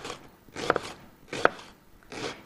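Half an onion is chopped with a knife, three slow, separate thuds on a board, close and clear against quiet.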